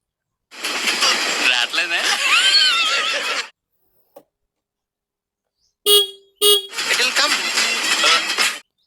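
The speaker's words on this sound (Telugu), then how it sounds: "ఒకసారి హార్న్ కూడా వినిపిస్తాను మీకు." Two short, bright beeps from the horn of a Honda Activa 6G 110 scooter, sounded close by in a quick double press, with someone talking just before and after.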